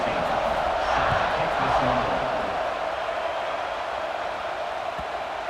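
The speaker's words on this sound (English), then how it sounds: "this crowd now ready to get behind them" Stadium crowd in the College Football 26 video game roaring steadily before kickoff at Alabama, a loud continuous wash of cheering that swells early and then holds level throughout.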